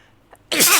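A single sharp human sneeze, close and loud, bursting out after a short faint intake of breath.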